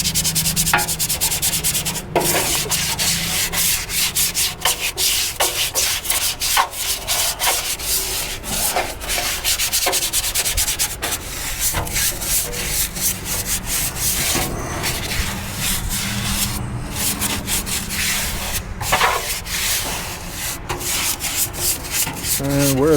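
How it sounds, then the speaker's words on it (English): A dirty blower wheel housing is scrubbed hard, giving dense, continuous rubbing strokes close up with short pauses and no talk. "Then we'll scrub down the housing."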